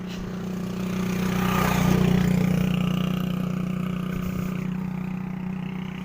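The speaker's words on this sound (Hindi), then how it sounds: "ये जी रिक्शे वगैरह मोटरसाइकिल लंघने पैन" A motorbike or rickshaw passes along a paved village road, its engine swelling as it approaches, peaking, then fading away over about six seconds, with no one talking.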